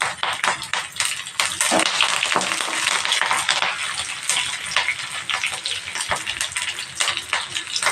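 Fresh curry leaves crackle and sizzle in hot oil in a pan for daddojanam, a loud close spluttering burst with bursts of stirring throughout.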